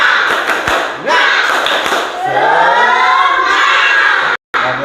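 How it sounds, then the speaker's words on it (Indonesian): Schoolchildren in a classroom doing a rhythmic spirit clap, several sharp claps in a pattern followed by excited shouting and cheering, with a brief dropout near the end. "tepuk semangat"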